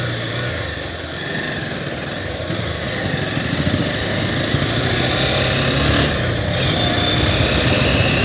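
A Bajaj Pulsar 220F motorcycle engine runs while riding, a loud, steady buzzing drone that rises slightly as the bike moves along, accompanied by road and wind rush.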